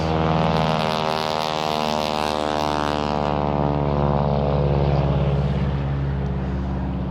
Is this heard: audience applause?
no